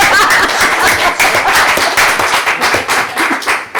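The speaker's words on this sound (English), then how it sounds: "We give her a round of applause." Loud, close applause from the audience at a town selectboard meeting, many hands clapping in a dense, continuous patter with a few faint chuckles mixed in, tapering slightly near the end.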